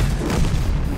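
Heavy, booming tank gun fire from an SU-100M1 in the video game World of Tanks, rumbling continuously for a moment, dense low thuds blending into a sustained roar with no voices.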